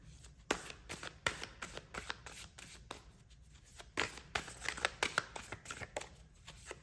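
Oracle cards being shuffled by hand, a close, steady run of soft riffling flutters and taps with no talking.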